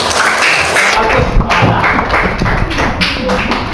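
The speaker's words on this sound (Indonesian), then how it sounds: "tepuk tangan semua" Schoolchildren in a classroom clap their hands together on the teacher's cue, a dense, steady patter of many hands lasting a few seconds, close and lively with some voices mixed in.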